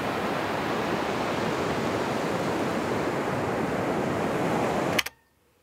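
Continuous surf of sea waves breaking on the shore beside a beach campsite, a steady broadband wash that stays loud and even before cutting off abruptly near the end.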